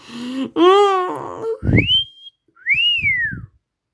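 A voice makes a couple of short sliding whistles between breathy vocal sounds, fairly close and clear, then silence.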